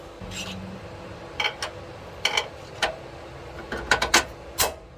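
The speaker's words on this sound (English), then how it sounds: "we're gonna put the bolt in for test fitting for sure" Bolt for a 4th Gen 4Runner panhard bar correction bracket being fitted, heard as a short series of sharp metallic clicks and clanks, several clustered toward the end, over a quiet background with no talking.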